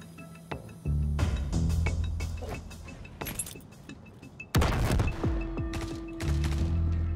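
Bursts of gunfire crack out in a Star Citizen firefight, sharp shots arriving in irregular clusters with a heavy burst midway, loud and close over a low mechanical hum.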